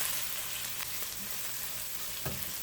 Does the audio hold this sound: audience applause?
no